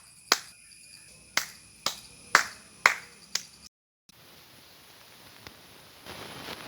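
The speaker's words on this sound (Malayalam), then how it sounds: "ഇങ്ങനെ കൈയടിച്ച് വിളിച്ച് കാക്കയ്ക്ക് കൊടുക്കാം" Hand clapping to call crows to a rice offering during a Karkidaka Vavu bali ritual at home: about six sharp, crisp claps in a quick uneven run, then near silence with a faint click.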